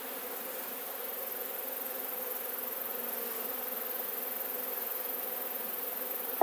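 Honeybees buzz around an opened backyard beehive, a steady continuous hum of many wings that holds at an even level throughout, with no talking.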